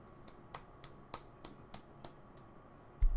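Clapping sound effect from the visual novel Katawa Shoujo: a steady run of about nine soft, evenly spaced claps at roughly three per second, faint and dry, with a low bump at the end.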